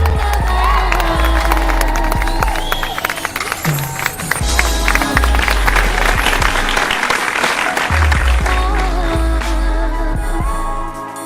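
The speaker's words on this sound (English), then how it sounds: "Give them a round of applause right here." Guests at a party applaud and cheer for a couple, the clapping loud and sustained for about eleven seconds, with whoops and shouts mixed in and a low musical hum underneath.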